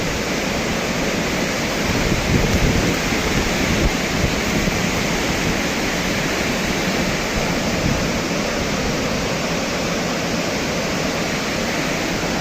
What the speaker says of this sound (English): the thundering water is impressing